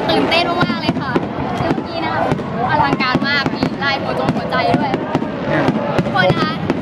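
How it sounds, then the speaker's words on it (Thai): Fireworks at the Sendai fireworks festival crackle and pop densely throughout, many rapid bursts layered together while someone talks over them close by. "ตอนนี้นะคะเราก็อยู่ที่งานเทศกาลดอกไม้ไฟที่ซินไดนะคะ จุดพลุสวยมากๆนะคะ"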